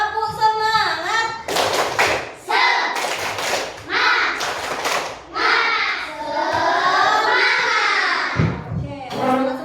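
Fifth-grade schoolchildren in a classroom clap out the rhythmic 'tepuk semangat' pattern in bursts of hand claps, mixed with children's voices and a teacher talking.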